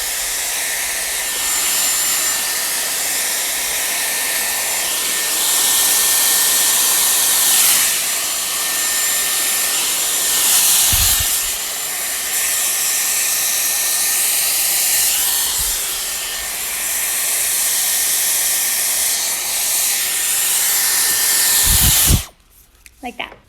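Dyson Airwrap hair styler blowing steadily while curling long hair, a continuous airy whine that holds across the stretch and cuts off near the end with a couple of brief handling knocks.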